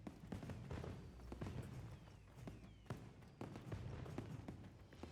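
Fireworks at a blossom festival in Monster Hunter Wilds, a rapid string of sharp pops and crackles over a constant rumbling backdrop, moderately distant.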